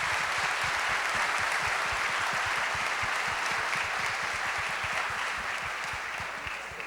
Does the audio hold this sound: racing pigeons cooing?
no